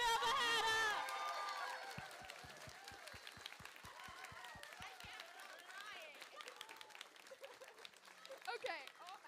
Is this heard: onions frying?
no